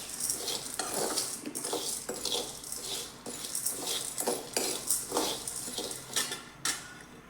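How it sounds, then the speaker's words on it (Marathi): Bhagar (barnyard millet) roasting dry in a pan gives a steady run of scraping, rustling stirs, repeated strokes of a spoon against the metal with a soft grainy hiss, close and continuous with no talk. "चांगलं व्यवस्थित हलवून भाजून घ्यायचे."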